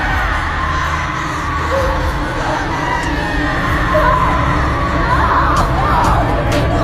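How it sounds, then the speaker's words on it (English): Screams echo inside a cell, a continuous wash of many shrill, overlapping shrieks and yells that swell and fade with a hollow, reverberant quality and no clear speech. "there were screams echoing inside"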